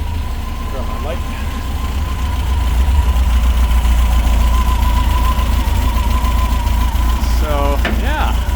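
A vintage 1964 bus engine idles steadily with a deep, even rumble that holds at a constant level close by, while a faint high whine runs through it.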